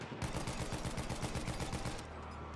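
Rapid automatic gunfire in the World War I shooter Battlefield 1, a dense burst of sharp, evenly spaced shots lasting about two seconds, loud and close, followed by a lingering rumble.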